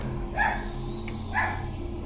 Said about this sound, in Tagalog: Tuta ata yan eh.